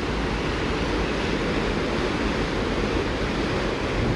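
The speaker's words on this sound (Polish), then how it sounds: "Mógłbym tak stać i słuchać tego szumu mielonej wody godzinami." Churned water and waves on the Vancouver Island shore make a loud, unbroken roar of rushing surf, dense and close, with no voices.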